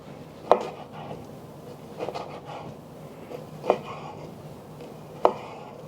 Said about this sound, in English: it makes it easier to slice into thin pieces